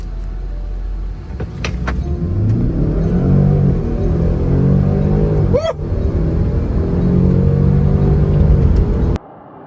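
A Land Rover Defender 110 rated at 297 kW and 640 Nm launches hard from a standstill, its engine rumbling loud and close as it accelerates steadily for about eight seconds before cutting off abruptly.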